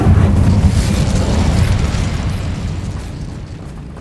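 Incendio fire spell blast in Hogwarts Legacy, a loud booming burst of flame that hits at once and rumbles on, slowly fading over a few seconds with no talking.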